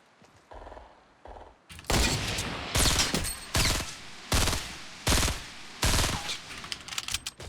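Gunfire from the video game Fortnite: after a couple of soft single shots, a series of loud, sharp bursts of automatic fire follows in short, evenly spaced volleys with brief pauses between them.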